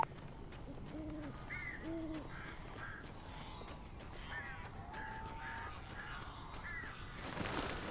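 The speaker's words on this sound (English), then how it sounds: "These birds are weird." Crows cawing in the Alan Wake video game, several short harsh calls repeating in bursts over a quiet, hissy ambient background, fairly faint and without talk.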